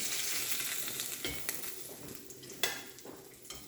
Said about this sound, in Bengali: নুন হলুদ দিয়ে আমি মাছটাকে ভেজে নিলাম